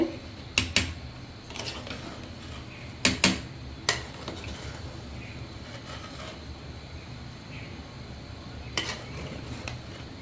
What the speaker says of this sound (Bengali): এই যে আমি পোলাওগুলো আবারও নেড়ে দেব